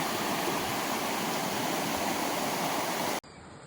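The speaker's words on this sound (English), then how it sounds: "there's several other springs like this that flow from the Chulu Hills" Spring water from the Chyulu Hills in Tsavo West National Park rushes and splashes continuously, loud and close like a spring gushing over rocks, then cuts off abruptly near the end.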